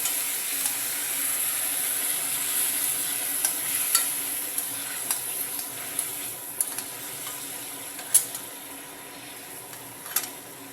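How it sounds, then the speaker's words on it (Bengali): Paneer cubes fry in hot oil for a paneer tikka curry, giving a steady close sizzle and hiss with scattered sharp pops and crackles throughout, and no voices. "তেল গরম হয়ে গেছে, পনিরগুলোকে অল্প ভেজে নেব।"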